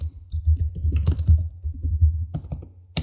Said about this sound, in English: You can begin typing, and you can type in